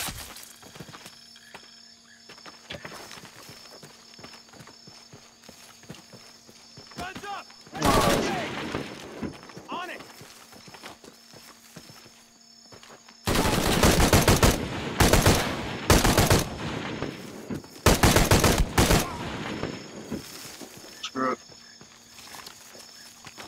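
Bursts of automatic gunfire in the video game Shadow of the Tomb Raider, loud rapid volleys coming in several clusters, with footsteps and game voices talking between the shots.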